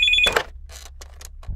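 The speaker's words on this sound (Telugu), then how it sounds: "ఆ ఫోన్ వచ్చి కింద ల్యాండ్ ఫోన్ అండి" A landline telephone rings with a short, bright electronic tone at the start, followed by a few brief clicks and rustles in an otherwise quiet room.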